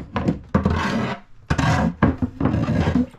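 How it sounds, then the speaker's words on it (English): A wooden bilge hatch on a 2015 Beneteau Oceanis 31 sailboat is lifted open in a few close, loud bursts of scraping, rubbing and knocking, with short pauses between them. "So I am going to open up the bilge just so you can see."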